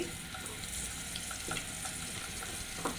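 Chopped onion fries in hot soybean oil, a steady close sizzle and crackle with a few soft stirring knocks, no voices.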